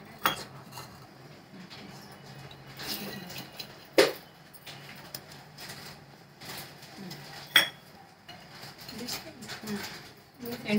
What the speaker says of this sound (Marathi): आता ही डाळ धुवून घेते मी 2 पाण्याने।